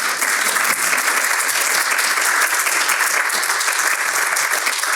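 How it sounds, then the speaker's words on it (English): A seminar audience at Princeton applauds steadily, a dense wash of clapping that holds at an even loudness throughout with no talk over it. "please applaud"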